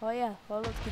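A big explosion in the video game Minecraft bursts out as a deep, rumbling blast right after a voice, with talk continuing over its tail.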